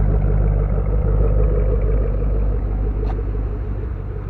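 A Chevrolet Camaro with a six-speed manual idles steadily after a cold start in mild weather, its low engine rumble constant and close with a faint high tick partway through.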